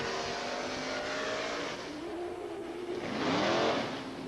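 Loud engines of fire apparatus at a New York State fire department drill, revving and accelerating with a roaring rise near the end, heard from some distance.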